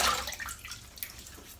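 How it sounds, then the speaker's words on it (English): Cold water splashed onto a face before a wet shave, a brief close wet splash that fades quickly into light dripping. "Splash of cold water"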